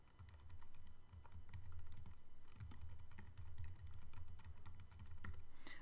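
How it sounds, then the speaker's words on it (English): Fast, steady typing on a computer keyboard, quick light key clicks in a continuous run, close but quiet over a low background hum, with no talking. "I'm going to type my title"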